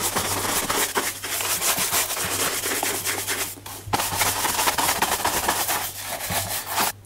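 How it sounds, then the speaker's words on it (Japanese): A horsehair brush sweeps dust off Tricker's leather shoes indoors, making loud, close, repeated rough brushing strokes in a steady rhythm with brief pauses. "それでは馬毛のブラシでホコリを落としていきたいと思います。"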